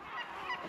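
Birds on Calpe Rock (Peñón de Ifach) give two quick honking calls close by over faint wind.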